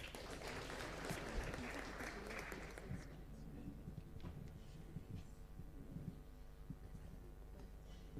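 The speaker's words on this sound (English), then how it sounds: "Another round of applause." Legislators at a National Assembly retreat applaud to welcome the Clerk, a dense round of clapping that fades after a few seconds into a quieter room with faint scattered sounds and a voice.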